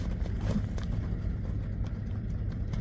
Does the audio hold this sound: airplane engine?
no